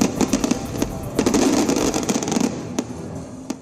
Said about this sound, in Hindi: साथ ही ऐसी आतिशबाजी की गई जो रुकने का नाम नहीं ले रही थी।